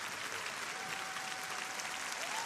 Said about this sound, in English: A lot of people on their feet applauding that performance.